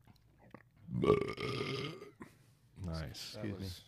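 A person lets out a long, loud belch after drinking beer, followed shortly by a second burp-like voiced sound, close to the microphone in a quiet room.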